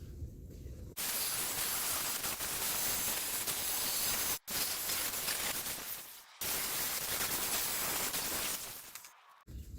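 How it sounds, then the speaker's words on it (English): A plasma cutter slices through metal while a wood burning stove is built from a tank, a loud steady hiss broken by two short pauses, running near and alone for most of the stretch. "fire up the plasma cutter, and we'll get started"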